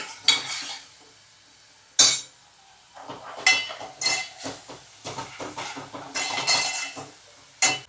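Tomatoes are sautéed in a pan with a spatula, heard as a series of sharp metallic scrapes and clinks that come in irregular bursts over a low sizzle.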